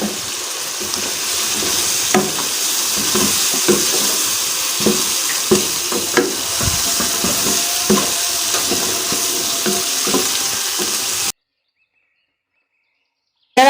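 Chicken feet fry in a spiced masala of chili powder and turmeric, a steady close sizzle with scattered pops and stirring scrapes, no talk, then cutting to silence.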